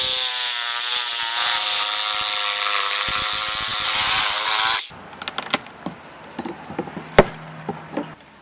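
A power saw cuts down through an old rough-cut 2x4 wall stud during window framing work, a loud steady high-pitched whine for several seconds, then it stops and scattered clunks and knocks follow.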